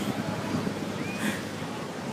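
Steady rushing surf and wind noise buffet the microphone outdoors at Seal Beach, with a faint brief whistle-like tone in the middle.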